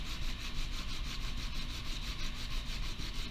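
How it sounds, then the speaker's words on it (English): Wood is sanded by hand, most likely on a wooden step springboard. Close, steady back-and-forth strokes scrape in a quick, even rhythm throughout, with no talk. "But I'm going to keep sanding"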